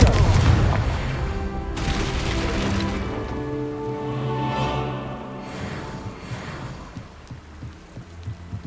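Spell explosions from Confringo casts in Hogwarts Legacy, booming blasts and crackling bursts layered over game music, with a heavy hit at the start and further bursts through the middle before fading near the end.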